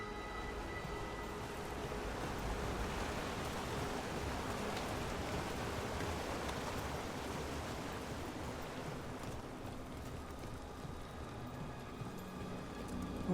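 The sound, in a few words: waterfall from a video game (Dragon Age: The Veilguard)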